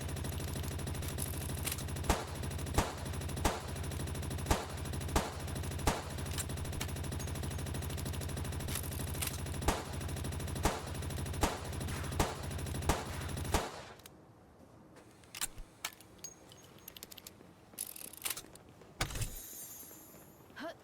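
A gun in Palworld fires sharp single shots at a steady pace, about two a second, loud and close over a droning game backdrop, then stops and gives way to scattered quieter clicks and thuds.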